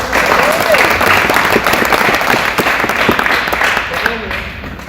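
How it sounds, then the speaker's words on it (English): Continuous, fairly close applause greets football players as they walk out at a team ceremony, with a few voices mixed in beneath the clapping. "when you start walking, now the clap."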